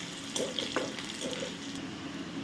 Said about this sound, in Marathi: चॉप केलेला लसूण लसूण आपण छान परतून घेऊया